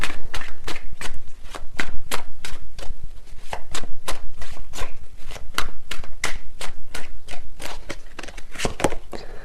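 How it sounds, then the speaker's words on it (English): Tarot cards are shuffled rapidly and continuously, a close, crisp run of riffling snaps in a steady rhythm that carries on throughout. "These cards are flying out."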